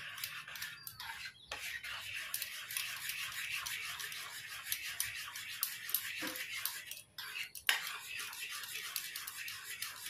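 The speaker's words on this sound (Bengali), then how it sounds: "দিয়ে এবারে ভালোভাবে মিক্স করে নিচ্ছি।" An oats and semolina batter with baking soda and water is mixed by hand, producing continuous close, wet scraping and stirring scrapes throughout, with a brief pause near the end.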